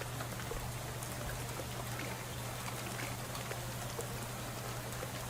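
Steady rain pours in Shadows Over Loathing, a constant even hiss of falling drops with a low hum underneath, no talking.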